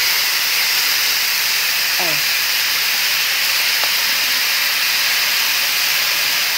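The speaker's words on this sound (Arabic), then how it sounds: "بصوا المعلقه دي معلقه الخل كده والسمك بيتشوي" Vinegar spooned over fish grilling on a hot grill makes a loud, continuous hiss that fills the whole clip, with faint voices in the background.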